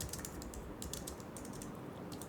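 Fingers typing a prompt on a computer keyboard, a quick, uneven run of soft key clicks heard close up and fairly quiet, with no talking.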